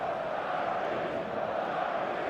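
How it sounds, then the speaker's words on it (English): Steady stadium crowd roar fills an eFootball match, a dense continuous murmur of thousands of fans at even loudness with no distinct voices standing out. "The stadium is full of noise and energy."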